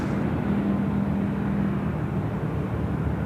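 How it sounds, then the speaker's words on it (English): An Airbus A380 taxis slowly off the active runway at Sydney Airport, giving a steady, moderately loud jet engine rumble with a faint tonal whine that holds through the whole stretch without a break. "The A380 just taxiing off the active runway nice and slowly there"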